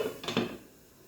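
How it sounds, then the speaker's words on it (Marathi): Metal lid set down on a pan of onions cooking over a medium flame: a soft double clink close by over a steady background hiss, then quiet. "आता आपण कांद्यावरती झाकण ठेवणार आहोत"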